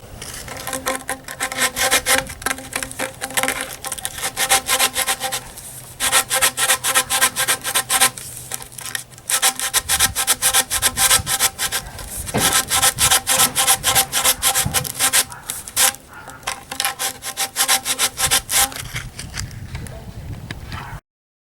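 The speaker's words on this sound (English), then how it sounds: "take sandpaper and you're just going to try and get inside and sand it up big enough for the grenade to fit" Hand sanding inside a tube with sandpaper, widening the bore of an airsoft grenade launcher barrel: steady, close rasping strokes repeating in a fast rhythm for about twenty seconds, with brief pauses, no talking.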